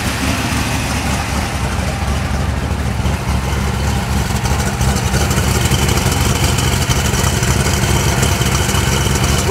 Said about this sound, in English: Sweet Rumble from 1965, 289 style.